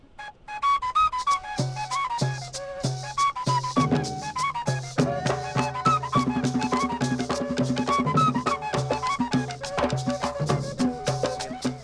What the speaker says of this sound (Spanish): Y todo el grupo, con este formato de gaita corrida, suena así